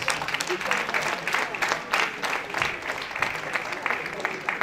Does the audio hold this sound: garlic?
no